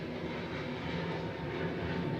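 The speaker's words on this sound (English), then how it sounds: "Excuse the plane going overhead" An airplane passes overhead with a steady, broad engine roar, moderately loud and continuous throughout, with no talking over it.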